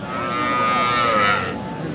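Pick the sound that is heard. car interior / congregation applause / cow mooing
cow mooing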